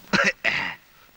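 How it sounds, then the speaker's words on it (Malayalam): A person clears their throat with a cough in two short, loud, close rasping bursts, followed by quiet. "ഓ എന്താ ഒരു കണിയാന്റെ ചുമ?"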